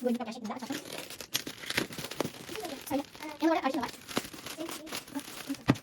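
A Lagoona Blue Monster High doll's packaging is crinkled and torn open at close range in bursts of crackling plastic and cardboard, with an excited voice talking over it.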